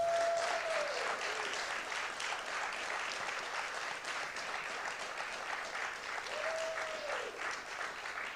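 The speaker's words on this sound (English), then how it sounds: "let's have a round of applause" A very small live audience at the Hearts & Hugs Live epilepsy community event claps steadily for about eight seconds, a thin but even patter of applause with a faint tone rising briefly near the start and end.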